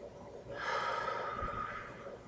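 One slow, deep breath drawn and released close to the microphone, a soft airy rush that swells and fades over about two seconds against a quiet background.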